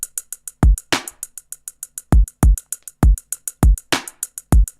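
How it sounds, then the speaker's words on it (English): A Maschine MK3 drum pattern loops steadily, with a busy hi-hat whose randomized velocity makes the hits rise and fall in loudness between punchy kick and snare hits, all loud and close, with no voices. "a variation in randomize in like velocity on the hi-hat. Sounds more human."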